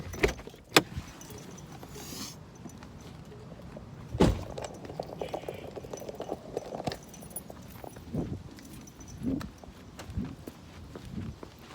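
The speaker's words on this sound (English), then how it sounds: "Keys in my pocket." Keys jangling in a pocket, bursts of metallic clinking at intervals mixed with footsteps, rustling and car-door handling sounds nearby.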